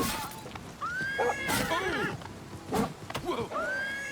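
A horse in the video game Oblivion neighs and whinnies repeatedly, with high, wavering calls over faint hoof clatter and a light background bed.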